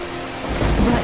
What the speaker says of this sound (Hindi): ऊपर से यह बेमौसम की बारिश और शुरू कर दी